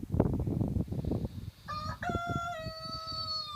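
A rooster crows loudly and close by in a farm teaching garden with hens, a long drawn-out call rising after some earlier clucking and someone talking.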